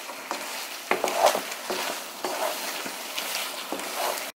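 Fried kebabs stirred into cream in a pan, with a steady sizzle beneath repeated scraping and clinking strokes of a spoon against the pan, close and fairly loud throughout.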